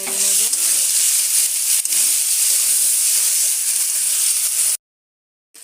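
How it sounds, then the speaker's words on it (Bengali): Turmeric powder, chilli powder and a little sugar stir-fried in a pan for an egg curry give a steady loud sizzle and hiss for several seconds, with a few stirring scrapes, before it cuts to silence. "এবারে ভালো করে সব কিছু কষে নেব।"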